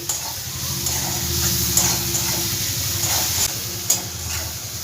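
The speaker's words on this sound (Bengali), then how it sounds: "আরও দু মিনিট আমি ভেজে নেব" Chopped ginger and green and red chillies sizzle and hiss steadily in hot oil for a Bengali fish-oil chorchori, with occasional stirring scrapes, close and loud, no talking.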